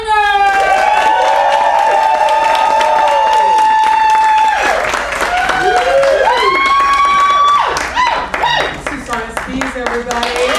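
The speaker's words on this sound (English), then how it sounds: "put your hands together for the lovely and amazing Marcy Etlinger" A comedy club crowd at a stand-up show claps and cheers loudly throughout, with whoops and shouted voices riding over dense, continuous applause.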